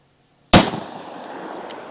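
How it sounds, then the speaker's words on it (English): A single loud, close pistol shot from a G30 firing a Winchester Silvertip .45 ACP round into ballistic gel cracks out once after a moment of silence, then rings away in a long decaying tail. "I'm gonna put one through each barrel length into the gel, starting with this G30 first."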